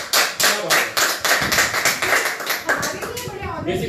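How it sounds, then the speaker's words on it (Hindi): A studio audience on a children's TV show claps in a quick, steady rhythm of sharp bursts, with voices mixed in among the clapping. "ताली"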